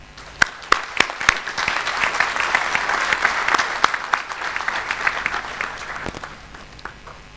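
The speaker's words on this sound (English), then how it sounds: "acknowledge that support with a round of applause" Audience applause at a St. George's University commencement in Grenada, honoring the graduates' supporters. It opens with loud distinct claps that swell into sustained dense clapping from a large hall, then eases off.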